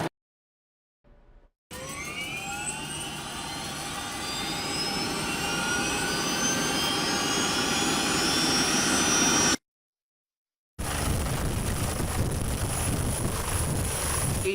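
Virginia State Police aircraft powering up for takeoff, a rising turbine whine building to a loud sustained roar, broken by a short silence before the loud engine noise resumes.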